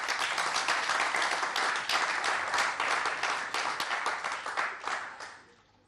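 A hall audience applauds at a talk between a Raëlian and Maître Avatar JP Manzolo: dense, loud clapping that holds strong for several seconds, then thins and fades away near the end.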